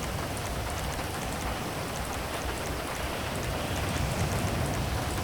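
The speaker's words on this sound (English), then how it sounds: "I'll just show you what rain looks like." Rain in GTA V modded with QuantV, a dense, steady downpour hiss with constant patter that holds at an even level from start to finish, with no talking.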